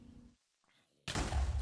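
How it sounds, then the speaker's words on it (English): A Minecraft creeper explosion, one sudden loud booming blast after a short quiet pause, rumbling on to the end. "Gotta get him to blow up"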